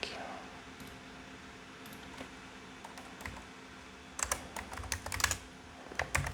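Soft keyboard typing in a French ASMR recording: scattered light clicks at first, then a denser run of close, crisp keystrokes toward the end, set against a quiet room hush.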